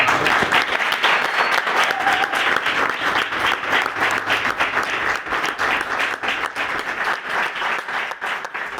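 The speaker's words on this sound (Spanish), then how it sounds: "muchísimas gracias, un aplauso fuerte." An audience at a live evening show bursts into loud, sustained applause, dense clapping that stays strong for several seconds before easing slightly.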